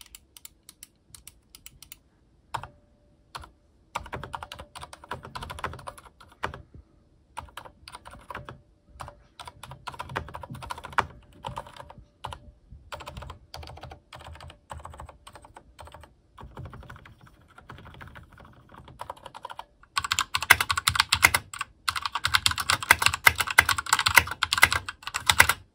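Steady typing on a Varmilo VA109 V2 mechanical keyboard, close-up clacky keystrokes in irregular bursts with brief pauses, growing denser and louder toward the end.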